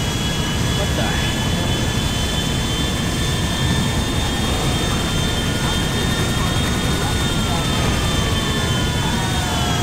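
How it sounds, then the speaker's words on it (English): Helicopters in the video game Grand Theft Auto 5 give a steady, loud engine roar with a whining turbine tone that holds for the full stretch, with no break. "helicopters"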